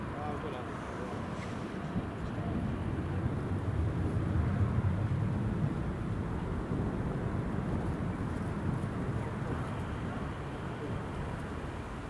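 A Jet2 airliner lands in a gusty crosswind at Newcastle International Airport, giving a steady, broad engine roar that swells and fades over several seconds. Wind buffets the microphone, and people talk nearby.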